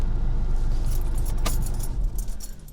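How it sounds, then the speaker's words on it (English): A car's engine is switched off at the end of a driving lesson, its low idle rumble fading while a bunch of keys jangles close by in brief metallic clinks. "Just switch the car off."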